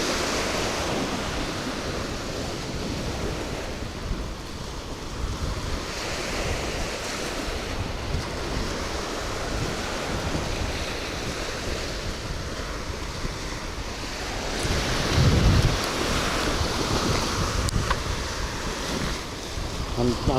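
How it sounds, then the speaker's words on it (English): Waves on a murky Florida Gulf Coast beach, a continuous loud wash of surf and wind buffeting the microphone, swelling briefly louder near the end. "Usually this is a really clear, nice beach."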